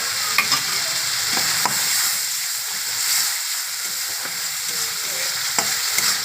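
Chopped tomato and spices sizzle in a pan as a spatula stirs and scrapes them around, a constant frying hiss broken by occasional soft knocks against the pan, close and without talk.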